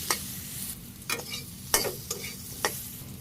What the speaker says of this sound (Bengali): ভালোভাবে নাড়াচাড়া করে আমি সুন্দর করে কষিয়ে নিই